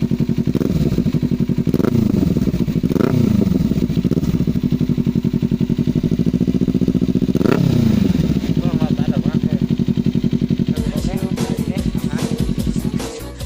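A red and black Kawasaki Ninja 300 motorcycle idles close by with a fast, rattling pulse and is blipped into several sharp revs that rise and fall, then ends with a quicker, choppier idle.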